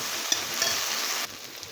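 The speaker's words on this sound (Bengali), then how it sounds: "যদি কড়ায় টাইট লেগে যায় তাহলে একটু একটু করে গ্রাইন্ডারটা ধুয়ে ধুয়ে যে জলটা থাকবে সেইটা দিয়ে নাড়তে থাকবো" Food frying in a kadai gives a steady, close sizzling hiss, with a brief spoon scrape early on. The sizzle drops to a softer level partway through, and no one speaks.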